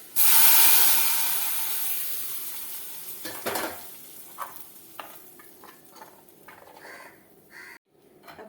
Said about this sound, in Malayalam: നമ്മുടെ കടുക് വറുത്തത് നന്നായിട്ട് മൂത്ത് വന്നിട്ടുണ്ട് ഇനി നമുക്ക് തീ ഓഫ് ചെയ്യാം എന്നിട്ട് ഇതും കൂടെ നമുക്ക് ഈ കറിക്കകത്തേക്ക് ഇട്ട് കൊടുക്കാം